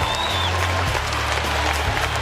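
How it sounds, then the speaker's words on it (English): Loud, steady crowd noise with applause and shouting fills a strongman contest arena during a 320 kilo deadlift in Riga, Latvia, with a low hum beneath. "the crowd is shouting, here it goes!"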